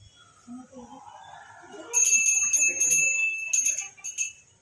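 A small hand bell rings rapidly and brightly for a couple of seconds during an aarti, pauses briefly, then rings again, close by, after some quiet voices.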